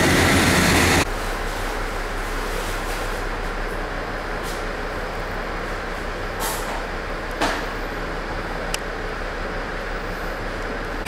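Train at Tenryu-Futamata station, a steady loud rumbling drone of rail cars running on through the whole stretch, with a short sharp burst at the start and a few faint clicks and knocks along the way.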